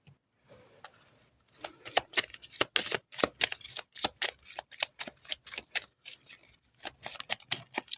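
Tarot or wellness cards being shuffled by hand, a quiet riffle at first, then a long run of rapid, close, crisp flicking bursts in an uneven rhythm, with no voice.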